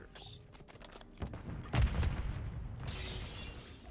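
Gunfire in Call of Duty: Modern Warfare 3 ranked play, a short burst of sharp shots with a heavy thump midway and a hissing crash after it, set against low background noise.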